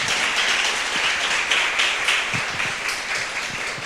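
A church congregation applauds in a continuous wash of many hands, even and moderately loud and heard from a slight distance, holding steady from start to finish with no voices on top.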